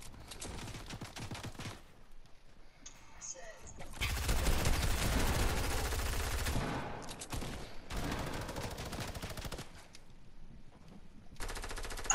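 Fortnite minigun fire in rapid sustained bursts, loud and dense, with a short pause between longer stretches of continuous gunfire.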